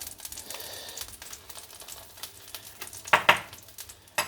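Fish laid skin-side down in a hot pan starts to sizzle, a close, crackling fry with sharp spitting pops and a couple of louder bursts near the end.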